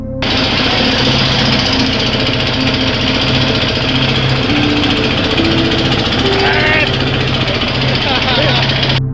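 A racing boat's engine on a narrow, winding canal in Barishal drones loudly and continuously, with steady tonal hums running through the whole stretch, while voices are faintly audible underneath.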